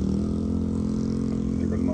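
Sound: motorcycle passing by on the street

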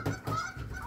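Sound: geese honking outside

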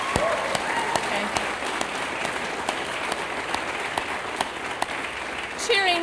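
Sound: audience applause at academic convocation

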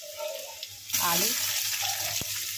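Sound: potatoes frying in a pan

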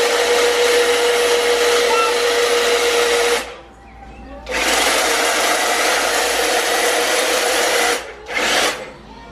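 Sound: mowing grass with a lawn mower

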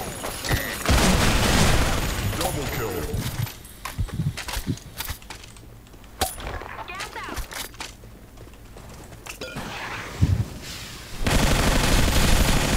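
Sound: pistol gunfire in a video game

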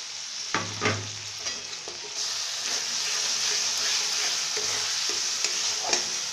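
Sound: frying and stirring masala with Kashmiri chili powder

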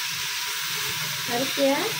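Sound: rice being added and stirred in a hot pan

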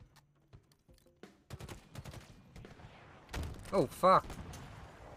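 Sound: enemy gunfire in Halo Infinite video game

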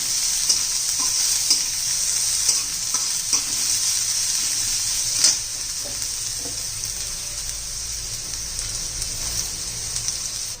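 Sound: onion sizzling in pan for jowar flour soup

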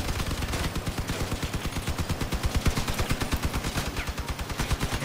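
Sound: gunfire and rockets in the video game Crossout

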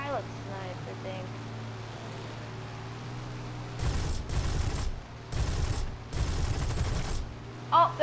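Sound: aircraft cannon fire in video game

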